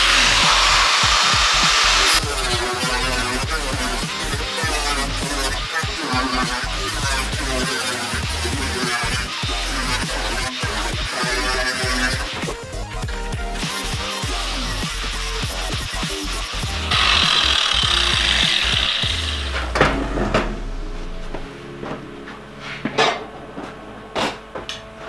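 A power tool cuts out a rusty metal section: a loud, close mechanical whine that rises and falls in pitch with the cut, bursts of grinding, then slows and quiets toward the end.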